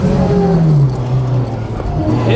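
A Ford Escort rally car runs on a tarmac rallysprint course, its engine loud and close, with the note sliding downward as it comes off the throttle, then picking up again near the end.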